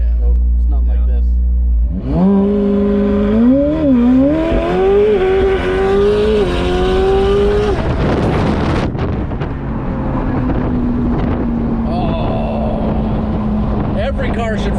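McLaren 765LT sports car accelerating hard on the road, its engine note climbing loud and close through several rising revs, then settling into a steadier cruise with people talking over it.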